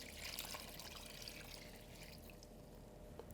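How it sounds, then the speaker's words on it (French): Water poured into the bottom of a dough mixer bowl while making a rye bread tourte, a faint steady splashing pour throughout. "on va mettre l'eau en fond de cuve."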